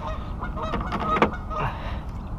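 A goose gives a short, nasal honk or two against a backdrop of steady outdoor noise on the Cedar River, fairly close and brief.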